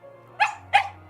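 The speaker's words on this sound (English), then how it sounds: "A dog reminded us of its existence with a loud bark" Two loud, close dog barks about a third of a second apart in the horror game Tiny Bunny, set against a low steady hum with no talking.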